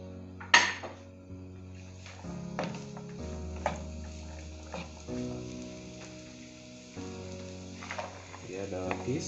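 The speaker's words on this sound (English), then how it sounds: "mix all the vegetables together and fry them at once." Mixed vegetables for vegetable fried rice fry together in a pan with a soft, low sizzle, broken by a few clanks of utensils against the pan.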